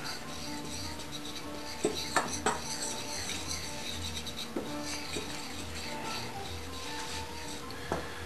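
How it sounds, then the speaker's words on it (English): Flour, sugar and other dry scone ingredients stirred together in a bowl, a continuous scraping rustle punctuated by a few sharp clinks of utensil against the bowl, close and moderately loud. "So you put them all in together and you just stir them around to get them well mixed up."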